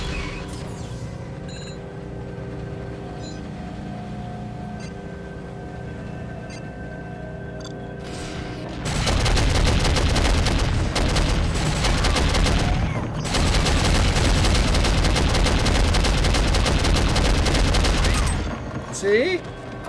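Sustained loud gunfire from the PC shooter Soldier of Fortune (2000), a dense continuous fusillade that erupts about halfway through and keeps going for roughly ten seconds, after a quieter stretch of background game tones.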